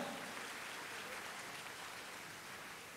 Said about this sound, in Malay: Beri tepukan nggak boleh?